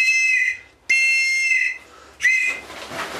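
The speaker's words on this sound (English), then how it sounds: "So you've got a whistle." A safety whistle on an inflatable life jacket is blown hard three times, each blast piercing, shrill and close, with short gaps between.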